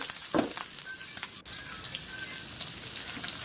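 Sliced onion, garlic and ginger sizzle steadily in a hot oiled pan, with a brief clatter of stirring and a sharp utensil tap near the middle over constant crackling.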